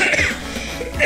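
A man coughs hoarsely during a Super Street Fighter II Turbo game stream, after a night of heavy wine drinking; a rough burst at the start and another at the end, loud and close.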